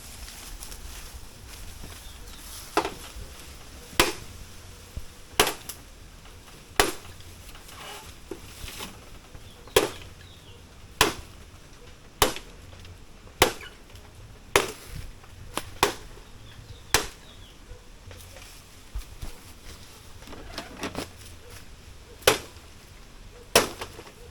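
Bamboo being chopped on a cliffside in a bushcraft setting: about fifteen sharp, crisp strikes land at an uneven pace, close and loud over faint outdoor background.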